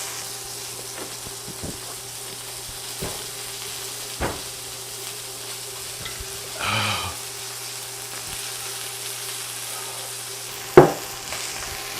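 A burger patty sizzles and fries in a pan, a steady soft crackle with occasional louder pops and spits, heard alone at moderate volume.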